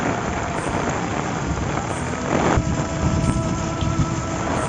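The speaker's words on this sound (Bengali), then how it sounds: "কত জোরে হাওয়া হচ্ছে, আর বৃষ্টি অনেক হচ্ছে জোরে" Strong wind and heavy rain during a storm in Vrindavan make a dense, unbroken roar that stays loud and even throughout, with a brief rise in the middle and no voices.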